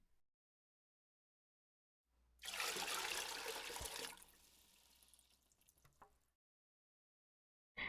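Copper sulfate and sodium chloride solutions are poured together, a short splashy gush of liquid that tapers into a softer trickle before falling silent.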